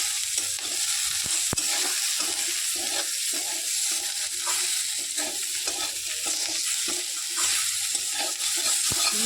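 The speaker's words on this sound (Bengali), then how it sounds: "ভালো করে আবারও ভালো করে ভেজে নেব।" Mushrooms fry in a pan with ground cumin and coriander for a chilli mushroom dish. Steady close sizzling continues throughout, with repeated scraping and stirring strokes of a spatula on the pan and no talking.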